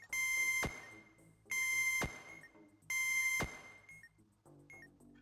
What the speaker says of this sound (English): we get 3 beeps as we expected